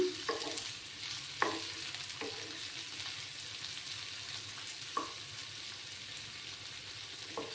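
Sliced onions frying over low heat in a pan, a soft, even sizzle with a few spatula scrapes early on and one near the middle, quiet and without talk.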